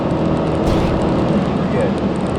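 Dodge Challenger Hellcat running at about 150 mph just after a shift, in 500 horsepower mode, a loud, steady roar of engine and wind rush that stays constant throughout, with a brief burst of hiss partway through.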